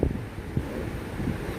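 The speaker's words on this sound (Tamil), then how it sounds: "காற்று வேறு மூஞ்சில் அடிக்குது." Steady wind roar rushing past a speeding motorbike in the Traffic Rider racing game, a continuous low broadband whoosh with a few soft gusts, loud and unbroken, no speech.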